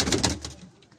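A Shaqa breed pigeon coos softly at a pigeon club, a short run of quick pulsing notes that fade out within about a second.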